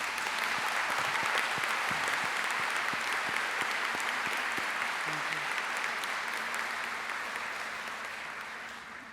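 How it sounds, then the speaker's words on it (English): Sustained audience applause at a nursing school pinning ceremony, a steady dense wash of clapping from a large crowd that carries on for the full stretch and slowly fades near the end. "let's just give them a round of applause"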